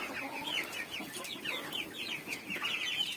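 Hens cluck in quick, irregular bursts, a busy chorus of close, soft clucking with no talk.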